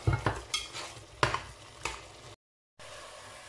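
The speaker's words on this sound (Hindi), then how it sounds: "अच्छे से हम अपने मसालों को भून लेंगे।" Mutton and spices fry in a pot while a spoon stirs, with several scraping strokes and clinks over a continuous sizzle, close by, then a brief moment of silence before the sizzling resumes.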